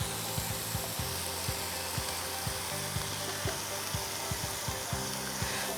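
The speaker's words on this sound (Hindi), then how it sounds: "और हम टमाटर शामिल कर देंगे। हर चीज़ मिक्स करिए अच्छी तरह" Tomatoes and tomato paste sizzling in a hot pan, a steady frying hiss punctuated by regular scraping taps of a stirring utensil.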